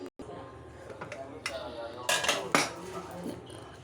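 A spoon stirs a potato and chana dal curry in a pot, scraping and clinking against the metal in short bursts, with two sharper knocks near the end and a faint voice in the background.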